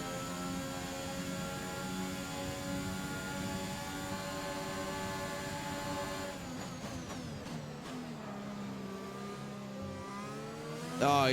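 An F1 car in the F1 2021 racing game at the Italian Grand Prix, its engine droning steadily at high revs with a constant, dense whine before the pitch shifts through gear changes, loud and with no talk over it.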